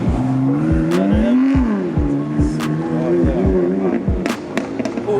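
A BMW M4 rolls out from a Vancouver car show past other departing cars, its engine droning loud and steady throughout, with repeated sharp ticking thumps along the way.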